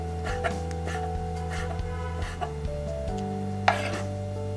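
A knife chopping chicken in a home kitchen, several sharp irregular taps on a board over a steady background hum, fairly faint with one louder strike near the end.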